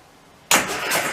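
A classic Mini van engine cranks and catches after half a second of quiet, then runs loud and rough, close by, with no talk over it.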